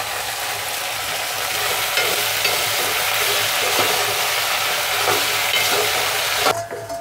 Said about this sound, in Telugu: ఆలుగడ్డ, క్యారెట్, ఉల్లిపాయలు వేగుతున్నాయి కదా. ఇప్పుడు ఇందులో మనము టమాటాలు వేసుకున్నాము.